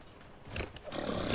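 Horse hooves clatter on stone steps in Dragon Age Inquisition, with a rough whinny-like cry rising near the end; a short, loud, noisy burst with no talking.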